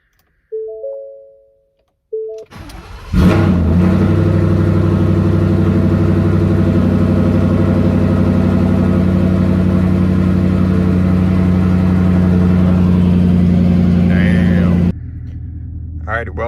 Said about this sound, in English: here's our first cold start since the truck has come home with me